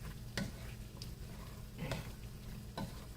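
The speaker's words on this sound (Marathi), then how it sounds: "आणि याला परत सगळं असं छान ढवळून घ्यायचं." Okra in a tangy tamarind curry (bhendyachi aamti) is stirred in a pan, with several distinct scraping strokes at an uneven pace over a low, steady simmering sizzle, close by.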